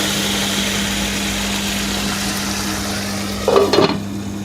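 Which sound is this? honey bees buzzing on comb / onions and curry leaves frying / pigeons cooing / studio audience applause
onions and curry leaves frying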